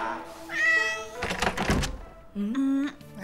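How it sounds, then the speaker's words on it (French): A cat meows loudly several times in a domestic setting, with a dull thump and some rustling between the cries. "Alors, on est un bon chat-chat."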